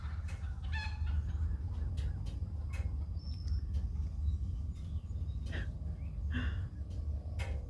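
Chickens cluck and squawk in short scattered bursts over a steady low rumble, with faint voices nearby.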